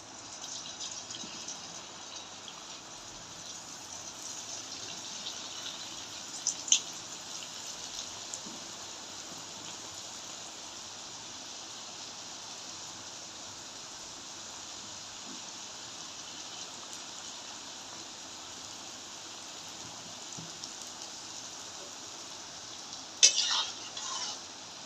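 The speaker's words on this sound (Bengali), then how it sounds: "এভাবে আমি সবগুলা পিঠা ভেজে নেব।" Mukhshola pitha cakes fry in oil with a faint, steady, rain-like sizzle that runs on without a break, and a couple of soft clinks sound near the middle and near the end.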